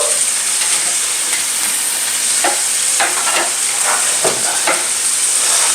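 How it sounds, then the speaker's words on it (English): A salted salmon steak sizzles loudly in a pan, a constant close frying hiss broken by a few soft clicks and shifts. "we got our salmon steak. Nice and going down."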